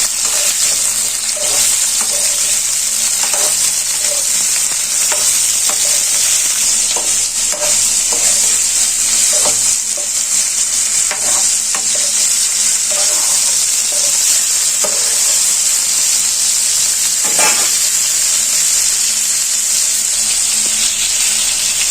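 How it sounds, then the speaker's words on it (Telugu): Turmeric-boiled cauliflower florets fry in an oily pan with a loud, continuous sizzle and hiss, punctuated by frequent scraping stirs throughout, close up and without voices. "ఇప్పుడు ఇందులో కాలీఫ్లవర్ వేసుకొని వేయించుకోవాలండి."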